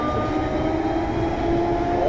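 A Siemens VAL 208 NG2 train of the Rennes metro runs between Kennedy and La Poterie, a steady rumble and rolling hum with a faint high whine, heard continuously from on board.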